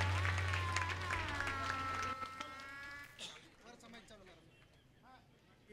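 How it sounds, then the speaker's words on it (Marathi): An audience applauds at a stage event, the clapping mixed with voices and a steady low hum, loud at first and thinning out after a few seconds. "जोरदार टाळ्या त्यांच्यासाठी देऊयात"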